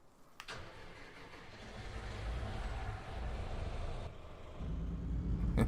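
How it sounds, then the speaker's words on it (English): A loud Mack Anthem semi truck in a farming game rumbles as its diesel engine starts with a sharp click, then churns heavily and steadily, the noise swelling again near the end. "It's a loud truck. I love this semi,"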